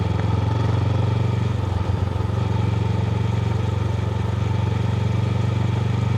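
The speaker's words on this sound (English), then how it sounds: "So this will be good to get a feel of the bike again on dirt with a full load setup." A fully loaded Honda CB500X motorcycle riding on a dirt road: a steady, loud parallel-twin engine drone close by, mixed with wind and rattling from the rough surface.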